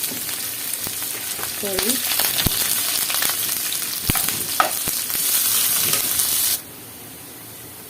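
Garlic, onion and bay leaf sizzle steadily in a hot pan, a dense frying hiss with occasional stirring clinks and scrapes, running for several seconds before dropping abruptly to a quieter background.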